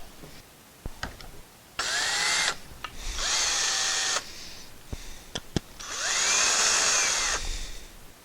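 A power drill countersinks screw holes in wood for a custom pegboard hammer holder, with three loud whirring bursts of a second or two each, separated by quiet pauses and small clicks of handling.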